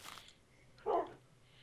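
A puppy in the video game Skylands gives a single short, faint bark, preceded by a brief scuffling noise.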